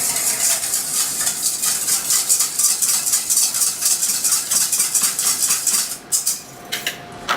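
A whisk clicks rapidly against a bowl while mixing light soy sauce with a drop of wasabi paste, a quick, even, close ticking rhythm that stops briefly near the end and then gives a few final taps.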